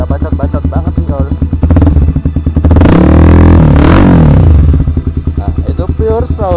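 A Honda CB150R with a Lone Ride aftermarket exhaust idles with a rapid, even putter, then revs hard for a couple of seconds into a loud roar before dropping back to a choppy idle, close and dominant.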